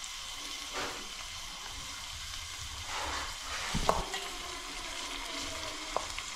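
Onion frying in a pan for a clam curry, a steady sizzle with occasional stirring scrapes and a few sharper clinks, close and moderately loud, with no speech.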